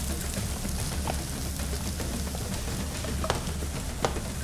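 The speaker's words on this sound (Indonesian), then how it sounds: "Oke, tumis sampai buncisnya matang." Green beans and corn stir-frying in a pan, a steady close sizzle with a few sharp crackles and pops standing out near the end.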